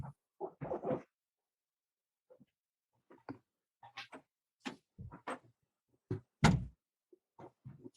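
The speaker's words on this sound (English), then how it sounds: "let me shut the door really quick" A room door is pushed shut during a podcast recording, giving a few soft, scattered thumps and clicks against near silence, with no one talking.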